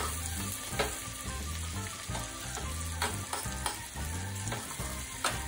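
Chopped garlic cooks in melted butter in a pan, giving a steady dense sizzle with the occasional stir and clink of a utensil, close by and with no voices.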